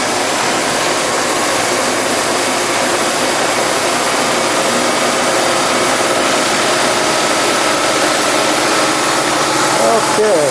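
A milling machine runs a drilling tool at around 2000 RPM with coolant on, producing a loud, steady broadband whir that holds constant throughout with no pauses.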